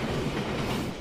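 Train pulling in within the video game Amnesia: Memories, a steady low rumble with rhythmic clickety-clack of wheels on rails, loud and close, continuous without voices.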